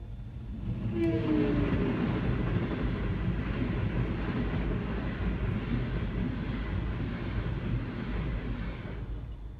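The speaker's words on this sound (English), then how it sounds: "the train's coming and you have to stop" A train rolls past with a loud, sustained rumble, its horn sounding briefly near the start before the steady roar of cars continues to the end.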